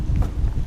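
A short, loud burst of low rumbling wind buffeting the microphone, muffled and gusty, with no voices.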